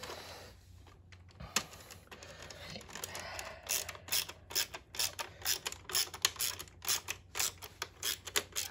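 Screw driven into a Western Star RC truck with a hand driver during a Bruder construction set build, a run of rapid clicking ratchet-like turns growing steadier and louder, close up with no talk.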